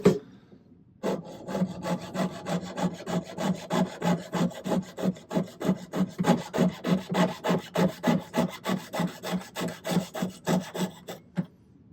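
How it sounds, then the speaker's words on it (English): A jeweler's saw with a fine blade and lubricating wax cuts through silver for a woven ring, making a steady rhythmic rasp of about three strokes per second that starts after a moment of quiet and continues close and even. "So I'll start by cutting off one side with the saw, and then we'll come back and we'll do the other side."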